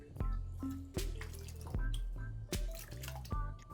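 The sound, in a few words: draining cooked noodles and rinsing in cold water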